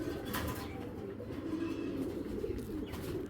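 Imported Belgian and Dutch racing pigeons cooing softly in a loft, a low murmuring coo over faint background noise.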